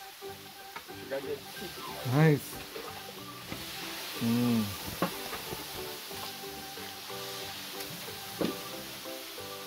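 Quiet sizzling and crackling of food frying in a pan, with a few short spoken words and scraping stirs over the hiss.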